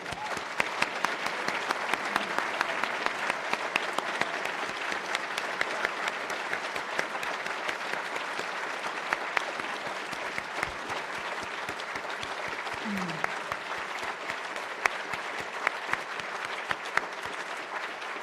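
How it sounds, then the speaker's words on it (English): A large audience at an awards ceremony gives the year's awardees a long, sustained round of applause, with dense steady clapping filling the hall for about eighteen seconds. "give you one final thundering round of applause"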